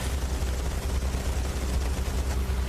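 Ship guns fire continuously in the naval combat game Battlestations Midway, a dense, loud rumbling barrage with no gaps, dominated by low booming.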